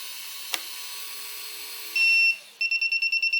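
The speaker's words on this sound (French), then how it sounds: "le buzzer s'active" A J-Mini drone's motor whine winds down after its radio link is cut, then a short solid tone and a run of rapid regular beeps from the failsafe buzzer follow, loud and close, with a small click early on.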